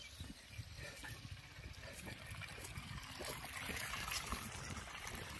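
Water pouring from the outlet of a 900 W BLDC solar-powered pump on a farm near Melur, Madurai, a steady rushing trickle with broadband splash noise that swells slightly toward the end, heard alone at close range.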